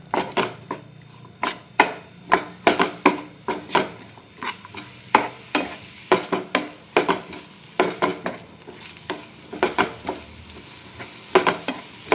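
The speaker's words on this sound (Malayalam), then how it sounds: "ഇനി ഇതേ പാത്രത്തിൽ തന്നെ ഇതിനാവശ്യമായ ഉള്ളിയും തക്കാളിയും വഴറ്റിയെടുക്കാം" Onions and tomatoes sauté in a pan while a utensil stirs them, producing a steady run of close, rhythmic scraping and clacking strokes over a soft sizzle, with no talking.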